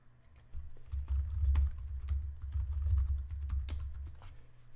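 A computer keyboard being typed on at a steady pace, close and quiet, a run of light key clicks over a low hum, no voices.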